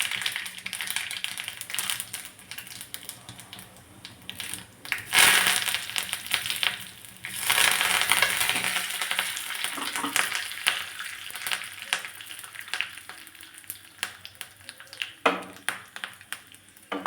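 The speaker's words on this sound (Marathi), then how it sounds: "तर तडक्याचं भांडं गरम करायला ठेवलं, त्यामध्ये अगदी थोडंसं तेल घातलेलं आहे" Tempering crackles and sizzles in a little hot oil in a small tadka pan, a dense spitting fry with sharper bursts and popping pulses running steadily throughout, close up with no talk.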